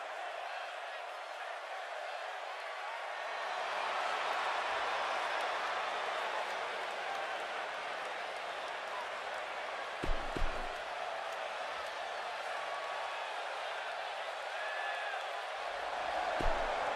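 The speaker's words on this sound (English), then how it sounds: "Would you listen to this crowd?" A dense, steady wash of arena crowd noise from the WWE 2K18 wrestling video game runs throughout, rising a little after the first few seconds, with a couple of brief thumps along the way.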